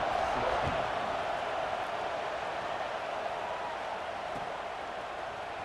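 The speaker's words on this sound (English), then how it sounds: "this crowd is buzzing after that last score" In an American football video game, a stadium crowd keeps up a steady, dense roaring buzz from start to finish, broad and fairly far off, with no separate voices standing out.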